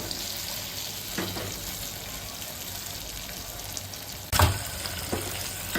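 Potatoes pan-roasting in oil give a steady, close sizzle and crackle throughout, with a few brief clatters of stirring, one sharper knock near the end.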